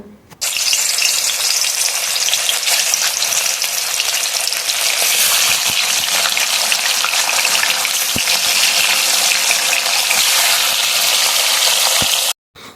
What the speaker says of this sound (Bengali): কড়াইতে তেল দিয়ে দিয়ে দিয়েছি আর এখন এখানে মাছগুলো আস্তে আস্তে করে ভেজে নেব